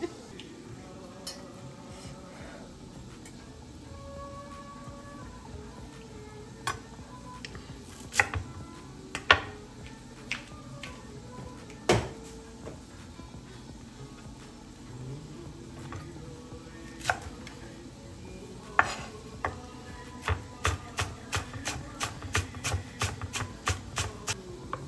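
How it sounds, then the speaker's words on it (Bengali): A knife chops fresh coriander leaves on a board, quiet scattered taps that build into a quick, steady run of cuts near the end, with faint kitchen background. "চলেন আমি একটু ধনেপাতা কেটে নিই।"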